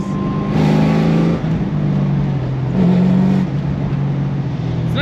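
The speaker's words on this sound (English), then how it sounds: "And this motor revs." A Datsun 240Z's engine revs hard from inside the car, a loud steady drone climbing through long gears, easing off and then rising again in two pulls, with no talk over it.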